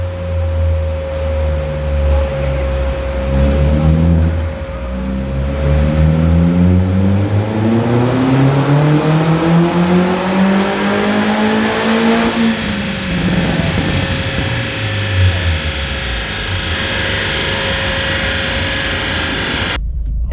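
Turbocharged, aggressively tuned Opel Astra GSI VXR engine revs loudly and continuously, its pitch sweeping up and then falling back, with a steady high whine throughout.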